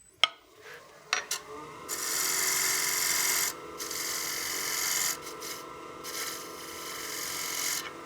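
Wood lathe turning a tenon on a wooden coin box: a tool rasps against the spinning wood in long, steady bursts broken by brief pauses, preceded by a few sharp knocks at the start.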